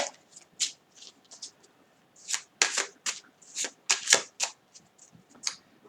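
A 54-card deck of playing cards is shuffled close up, with quick crisp riffling bursts separated by short pauses, clear against a quiet background.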